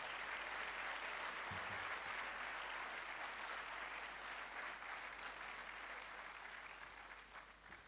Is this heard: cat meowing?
no